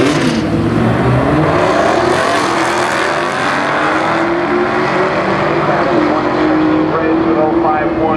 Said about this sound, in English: Camaro and Tatiana in her Challenger getting ready to go